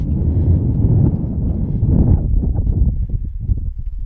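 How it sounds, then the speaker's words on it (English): Strong wind gusts across a rocky mountain summit with steep drop-offs, a continuous loud rumbling buffet against the microphone with no speech. "Breezy and cool up here."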